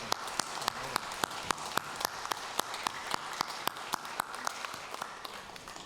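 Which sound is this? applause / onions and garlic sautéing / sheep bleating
applause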